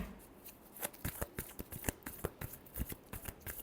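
Tarot cards being shuffled by hand, a close, quiet run of crisp riffling flutters and soft slaps in an uneven rhythm.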